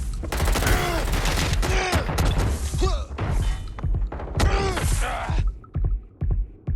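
Gunfire in the Watch Dogs Legion video game: dense, continuous bursts of loud shots and heavy thuds, layered with ricochet-like whines, then a few sparser blasts toward the end, with no talking.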